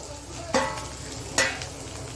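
Cluster beans being stirred and sautéed in a pan over a low flame, with a soft steady sizzle and two distinct scraping stir strokes close by.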